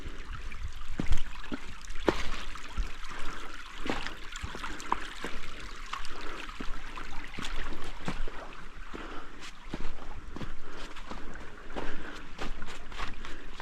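A mountain creek in wintry Appalachian woods flows steadily with a broad, close rushing sound, and scattered splashes and trickles rise above the constant wash of the water.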